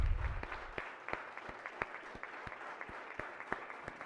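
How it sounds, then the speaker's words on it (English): Sparse, scattered clapping in a state senate chamber welcoming young visitors, distinct individual claps in an uneven rhythm, fairly quiet and distant in a large room. "please join me in giving them a round of applause"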